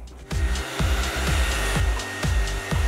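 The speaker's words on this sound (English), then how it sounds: "And next, you use a hair dryer." A hair dryer blows on a toy pet, a steady close whir broken by regular low thumping pulses about twice per second, with no talk over it.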